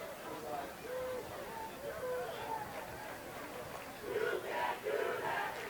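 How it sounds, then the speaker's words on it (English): Home crowd at a North Haven high school football game chanting in unison against the Simsbury kickoff return team, a rhythmic mass of voices in a large outdoor stand that swells louder toward the end. "the North Haven crowd chanting, "You can't do that," against the Simsbury kickoff return team"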